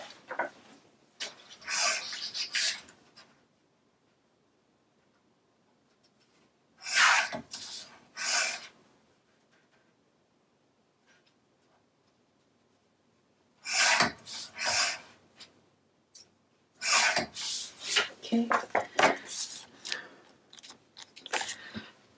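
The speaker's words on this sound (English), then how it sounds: "I need to trim it down for a 6x6 panel." Patterned paper is trimmed down to a 6x6 panel for a scrapbook page, with several short bursts of crisp, scratchy cutting separated by quiet pauses, close and fairly faint.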